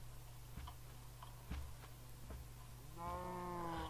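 A synthetic Minecraft cow moo rises near the end over a steady electronic hum and a few faint ticks.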